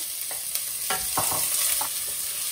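Onion and garlic sizzle in a hot pan with a steady bright hiss, broken by a few soft scraping stirs, close by and with no talking.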